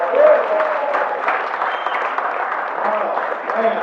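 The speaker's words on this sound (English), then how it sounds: "A round of applause for all the cooks and all the people who take care of us" Diners at a community Thanksgiving dinner applaud the cooks and caretakers, a steady wash of clapping across the room with voices and cheers mixed in throughout.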